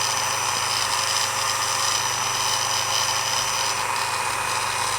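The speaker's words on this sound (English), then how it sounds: "whilst I've got the drill going" A small power drill bores into a part for a 1/200 scale Scharnhorst model ship, a steady, continuous whine with a low hum beneath it and no pauses.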